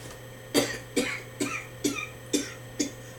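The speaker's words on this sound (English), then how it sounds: "Started coughing again." Someone coughs six times in a steady rhythm, each cough short and close, over a faint low hum with no talking.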